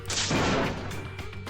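A gunshot in the video game Danganronpa Lapse: one loud, sharp burst that swells and decays over about a second, with a steady low game soundtrack humming beneath.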